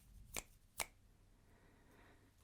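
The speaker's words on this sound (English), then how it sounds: "click my fingers and then..." Two crisp finger clicks, about half a second apart, sharp and close against a very quiet room, followed by near silence.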